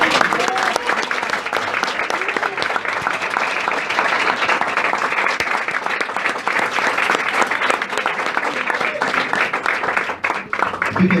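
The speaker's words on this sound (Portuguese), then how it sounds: "Para ficar bonito no DVD, você pode aplaudir o Senhor?" Loud, sustained applause from a church congregation, dense clapping that fills the hall evenly throughout with some crowd noise mixed in.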